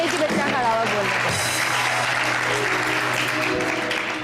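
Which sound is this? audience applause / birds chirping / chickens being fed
audience applause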